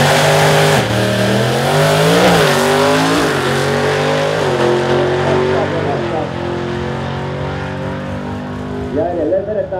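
A drag racing car on a solo run at a drag strip in Kauhava, engine roaring loud and sustained as it accelerates hard through the gears, then fading as it pulls away while a commentator talks over it.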